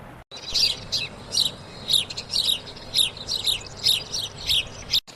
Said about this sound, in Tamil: என்ன இனிமையான சிட்டுக்குருவி சவுண்டு